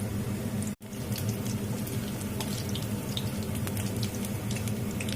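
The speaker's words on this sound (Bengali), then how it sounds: "বড়াকে এভাবে উল্টিয়ে পাল্টিয়ে ভেজে নেব।" Coriander leaf fritters sizzle steadily in hot oil, a dense continuous crackle with fine popping spatter that holds at a close, even level throughout, broken only by one brief gap near the start.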